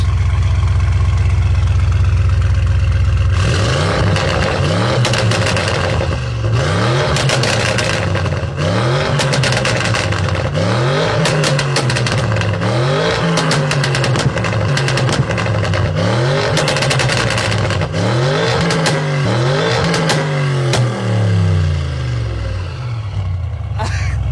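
Audi RS6 C8 with a Stage 2 tune and Milltek exhaust, revved repeatedly after a brief idle, loud and close, with rhythmic rising-and-falling sweeps of the engine note and sharp crackles between blips.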